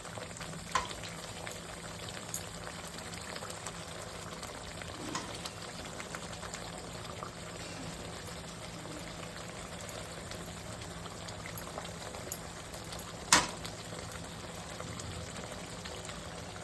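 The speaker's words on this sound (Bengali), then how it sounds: "এবারে এই পমফ্রেট মাছ দিয়ে দিচ্ছি।" Pomfret fish frying in a pan of ground spice paste made from onion, tomato, garlic, coconut, mustard, coriander and cumin for a fish curry, giving a faint, steady sizzle with a few soft pops.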